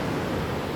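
Sea waves at a beach resort in Aringay, with boats nearby, make a loud, dense wash of surf filling the whole brief moment without any voices.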